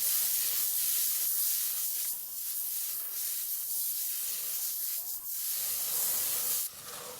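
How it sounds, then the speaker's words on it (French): Chopped onions and garlic hiss and sizzle steadily in a pot, a loud, close, continuous frying sound with soft rubbing stirs throughout. "Dans la même marmite, vous faites revenir 3 oignons hachés et 3 gousses d'ail"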